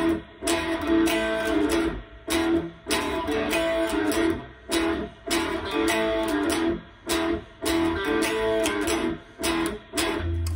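Electric guitar chugging through a riff, barred chords with a small string bend, played as loud, dense repeated bursts separated by brief gaps, close and with no voice.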